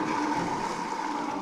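A car driven balanced on two wheels, its engine droning loudly and steadily under light throttle, with no clear rise in pitch.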